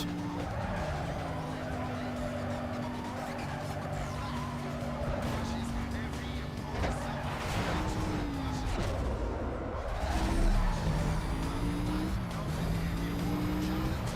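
Several car engines in Need for Speed Most Wanted whine and rev with shifting pitch, tires screeching now and then, a steady dense roar throughout with no voices.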